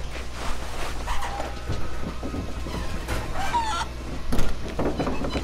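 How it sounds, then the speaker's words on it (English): Chicken clucking in the Lego Jurassic World video game, a few short clucks and squawks mixed into busy game sound effects and background music, moderately loud and without talk. "Was that chicken?"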